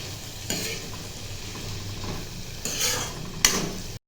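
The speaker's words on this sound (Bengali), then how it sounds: "হলুদ দিয়ে এখন নাড়াচাড়া করছি।" Sabu pulao with turmeric is stirred in a pan over a steady background sizzle, with a few scraping strokes of a utensil against the pan standing out clearly.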